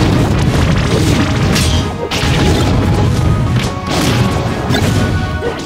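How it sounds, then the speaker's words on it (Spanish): A bomb goes off in Super Smash Bros. Brawl: a loud, crashing explosion swells out of dense game audio and keeps a thick, noisy roar going throughout, with brief dips before the blast surges again. "quien arrojó la bomba se llevó la explosión"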